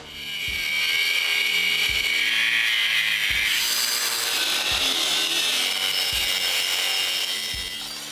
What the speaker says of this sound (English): We're going to end up cutting about 1 inch out of the spring hanger